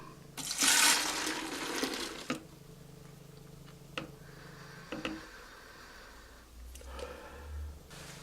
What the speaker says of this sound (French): Ensuite, l'eau déminéralisée. 375 ml.